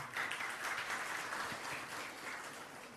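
Applause from a crowd at a land certificate handover ceremony in a Balinese village, a steady patter of many hands at moderate distance, quiet overall and fading slightly toward the end.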